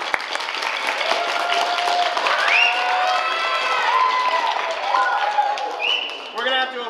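Applause and cheering from a crowd at an elementary school holiday concert, with children's excited voices and shouts rising over the clapping, loud and close throughout.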